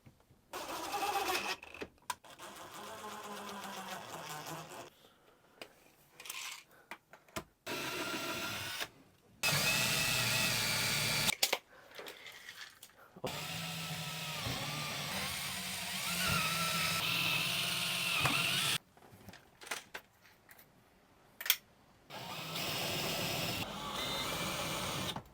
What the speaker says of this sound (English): Just countersinking the heads into the back.